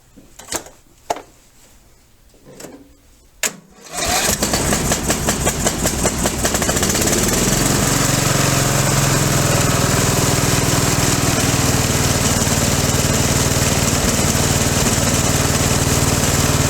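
An old Craftsman lawn mower rescued from a scrap yard, shaking and loud, has its engine pulled to life after a few quiet handling clunks, then roars steadily and close at a rough, constant drone.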